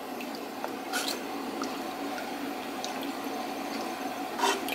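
Warm milk with dissolved rennet stirred in a pot for chongos zamoranos, a faint liquid swishing and soft sloshing with a few light clinks, quiet and close without talk.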